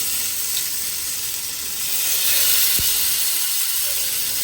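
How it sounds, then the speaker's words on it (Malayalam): Fish coated in masala frying in hot oil in a pan, a steady, close, loud sizzling hiss that holds continuously and swells slightly partway through, with no talking. "ഫ്രൈ ചെയ്തെടുക്കാം"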